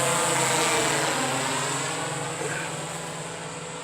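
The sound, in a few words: Infinite Jib Surveyor 630 drone taking off and flying overhead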